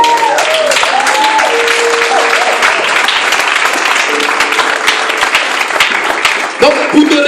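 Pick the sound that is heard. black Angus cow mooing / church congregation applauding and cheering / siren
church congregation applauding and cheering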